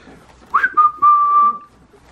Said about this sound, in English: they respond to this whistling sound